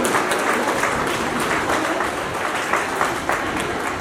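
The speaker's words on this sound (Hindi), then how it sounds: "जोरदार तालियों के साथ आज के मुख्य अतिथि महोदय जी का स्वागत कीजिए" A crowd claps loudly at an Annual Day function to welcome the chief guest, a professor, to the stage. The applause is dense, continuous and fairly close, and stays even for a few seconds with no voices over it.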